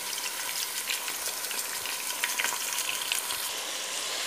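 Bolognese sauce frying and being stirred in a pan, a steady close sizzle throughout with soft scraping strokes, no voices.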